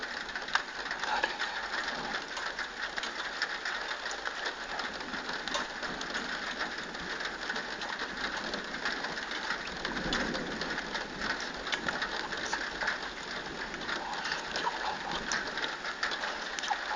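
Heavy rain during a strong night thunderstorm over Moulins, France, a dense, steady hiss of falling drops with a soft low rumble around the middle, no voices.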